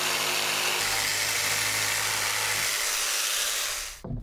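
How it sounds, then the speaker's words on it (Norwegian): A jigsaw buzzes loudly and steadily for about four seconds while cutting notches in a decking board, its motor pitch shifting slightly, then cuts off abruptly. "Sag så nøye ut hvert spor med en vippesag."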